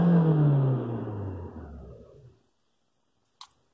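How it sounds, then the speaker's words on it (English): A car engine with a variable valve timing fault revs once, loud and close, then winds down over about two seconds into silence, with a faint click near the end. "Right, I'll rev it."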